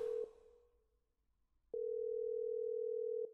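A telephone ringback tone sounds while a call goes unanswered: one long steady beep fades, a pause follows, then another long beep starts, clear and alone with no voices.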